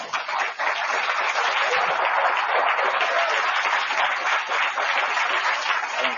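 A seated audience at a talk on recovering from stress and fatigue breaks into loud, dense, sustained applause, many hands clapping steadily throughout with no gaps and no voices.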